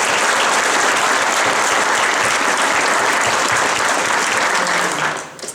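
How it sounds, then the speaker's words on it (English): Dense, loud applause from a crowd at a college graduation ceremony on the Tahoe-Truckee campus of Sierra College, sustained evenly for about five seconds before dying away abruptly. "Please give them a round of applause."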